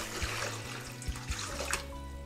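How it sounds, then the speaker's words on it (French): A litre of water is poured into a pot for holly dye, a close, full splashing pour with a few heavier glugs and sloshes through its short run. "Et un autre litre d'eau là-dedans"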